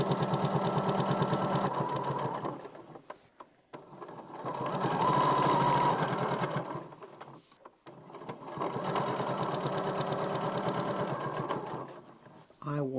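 A sewing machine stitches a quilt-as-you-go cushion cover in three long, steady whirring runs separated by brief pauses, close and fairly loud, with a person talking over it.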